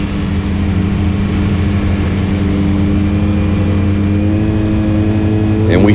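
Race car with a Potter-built Neon engine revs hard at a speedway, a loud, sustained engine drone holding steady close by.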